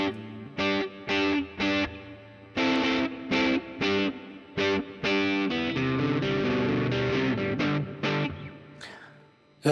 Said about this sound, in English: we'll start with the last effect, which would be the reverb